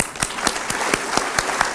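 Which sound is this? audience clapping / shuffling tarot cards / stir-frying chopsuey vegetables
audience clapping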